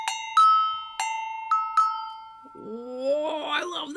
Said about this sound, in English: this is a serious bell a-go-go